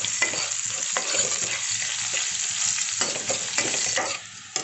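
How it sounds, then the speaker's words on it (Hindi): Garlic and finely chopped green chilli frying in hot oil in a pan for a green onion and besan dish, a steady close sizzle broken by several scraping stirs of a spoon, with no voices. "साथ ही हम डाल देंगे एक हरी मिर्च बारीक कटी हुई।"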